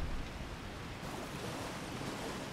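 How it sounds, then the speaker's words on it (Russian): A waterfall in the Elden Ring: Shadow of the Erdtree video game gives a steady, broad rushing roar of falling water, constant and fairly full, with no other sounds over it. "Водопад."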